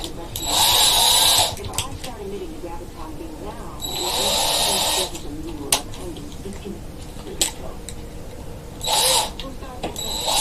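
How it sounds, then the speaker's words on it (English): A Porter Cable power drill whirs in short bursts of about a second each, stopping and starting repeatedly, with speech and handling clatter between the runs. "Use my cable porter drill this time."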